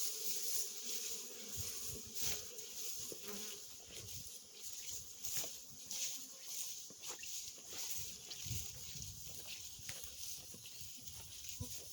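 Honey bees buzz from small mating nucs, queen-castle boxes holding two frames of bees each, a steady close insect hum with scattered handling knocks and rustles throughout.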